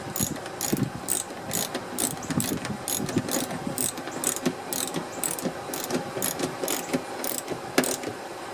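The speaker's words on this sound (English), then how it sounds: "Get your socket, crank them down." A hand socket ratchet tightening 12 mm bolts on a Toyota lift gate, its rapid pawl clicks coming in repeated quick bursts, close and crisp with no talking.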